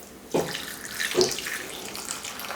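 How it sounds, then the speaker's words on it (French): Filtered water pours from a tap into a wide pot for bone broth, a steady close splashing and rushing with two brief louder gushes near the start. "Je viens couvrir d'eau filtrée."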